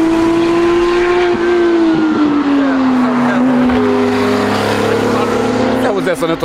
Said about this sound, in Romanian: cred că îi bătea un tachet